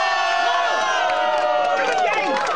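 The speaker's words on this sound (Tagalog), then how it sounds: "Umaapaw din ang kantsawan at sigawan ng mga taga-Pep PH." A studio audience loudly teases and shouts during a comedy sketch show, with many overlapping voices hollering and cheering together in a dense, lively burst.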